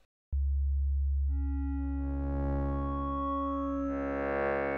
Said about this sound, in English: So you can hear the interpolation of the different wave shapes as the line moves across the 16 positions